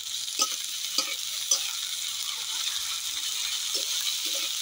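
Green chili, ginger and garlic paste frying with softened onions in a pan, a steady hiss of sizzling oil with a few soft spoon scrapes and knocks as it is stirred.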